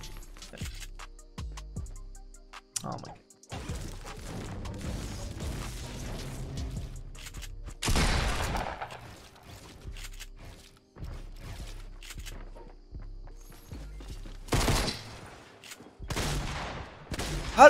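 SCAR assault rifle fire in Fortnite: repeated bursts of gunshots, some near and loud, others farther off, scattered across the clip between quieter gaps with mechanical clicks.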